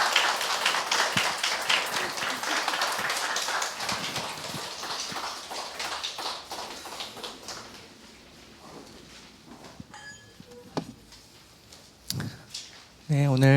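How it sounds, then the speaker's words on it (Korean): A church congregation applauds after a closing prayer at a baptism service, with dense, sustained clapping that thins out and fades midway, followed by scattered sounds and brief talk. "박수 쳐주세요"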